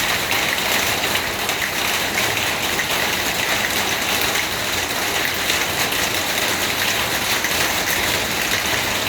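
Steady, dense rainfall pouring down close by, a continuous hiss of drops on surfaces with no pauses.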